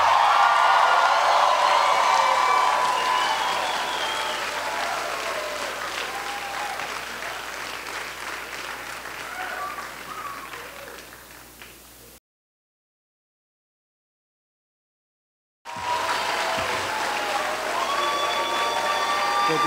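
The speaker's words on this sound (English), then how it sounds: "the same rowdy applause you've given me" Rowdy audience applause at a Hillary Clinton campaign rally at Philander Smith College, a loud sustained crowd clapping with some cheering that fades slightly, cuts out briefly, then resumes at full strength.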